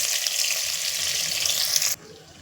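Water pours steadily into a pan of frying brinjal masala, a loud continuous splashing hiss lasting about two seconds before it abruptly stops, leaving a faint low sizzle.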